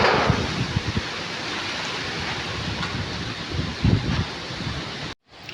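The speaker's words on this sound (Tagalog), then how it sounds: "yung aming tapat ay medyo napakalakas ng hangin" Steady, loud rushing wind with gusty buffeting, a constant broadband roar close to the microphone that cuts out abruptly at the end.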